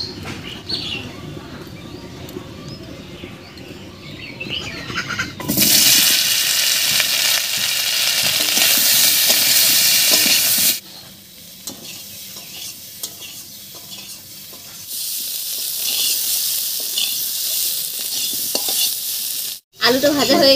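Lightly crushed potatoes fry in oil left over from frying fish, with a bright sizzle and stirring scrapes that grow loud for a stretch, drop back, then return. A faint bird coo sounds in the background.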